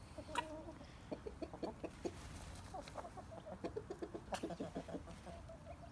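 A Bielefelder rooster clucks in a quick series of short calls, close by, with quiet outdoor background and a couple of louder squawks.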